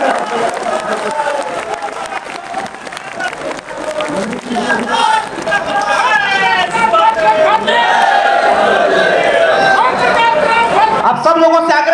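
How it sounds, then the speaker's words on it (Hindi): An audience in the Ravindralaya auditorium hall in Lucknow claps steadily for a newly chosen national president, a dense sustained round of applause with crowd murmur and voices speaking over it throughout. "जोरदार ताली बजा के स्वागत कर दीजिए।"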